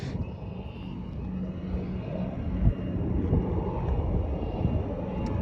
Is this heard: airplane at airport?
yes